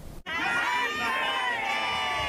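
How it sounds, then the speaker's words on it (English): A crowd of shoppers cheers and shouts together at Giant Tiger's 65th anniversary celebration in Ottawa's Byward Market, a loud sustained roar of many voices that swells after a brief pause. "A crowd of shoppers celebrating 65 years of Giant Tiger in the Byward Market of Ottawa."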